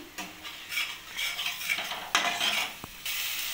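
Spices (ground coriander and cumin) frying in a pan over a high gas flame, stirred with a utensil: soft sizzling under repeated scraping strokes and occasional metal clinks, close and fairly quiet, no talk.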